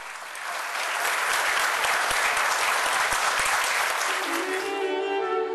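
Steady, full applause in a formal courtroom ceremony honouring minister Menezes Direito, a dense sustained clapping that swells in after a quiet start and then begins to thin, with a voice emerging at the very end.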